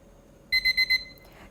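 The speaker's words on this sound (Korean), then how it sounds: "가스레인지 근처에서 타이머가 울릴 때까지 기다리겠습니다." A kitchen timer rings beside a gas stove while kimchi stew cooks, giving four quick, bright, evenly spaced beeps in a quiet room.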